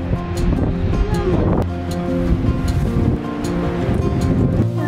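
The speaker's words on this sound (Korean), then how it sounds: "정우야, 지금 파도 엄청 세게 쳐" Strong sea waves crash loudly and continuously on the shore at a seaside resort, with heavy surf and wind noise buffeting the microphone and no talk over the roar.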